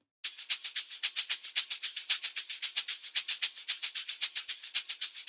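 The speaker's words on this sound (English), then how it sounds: "So all together, the shakers sound like this." Crisp electronic shakers in an Amapiano beat programmed in FL Studio, bright rapid hissing hits in a steady repeating groove with alternating accents, dry and close, playing alone.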